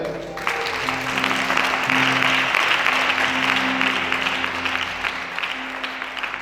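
A church congregation at a Sunday worship service breaks into loud, sustained applause that starts abruptly and fills the room. A low voice or music hums underneath before the clapping slowly tapers.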